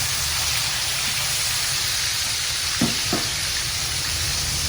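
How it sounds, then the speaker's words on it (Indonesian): Constant loud sizzling of milkfish frying in hot oil, with a couple of brief scraping stirs partway through. "Ini aduk bandeng goreng."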